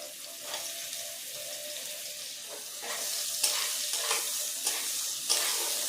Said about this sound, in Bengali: পেঁয়াজ লাল করে ভেজে নেব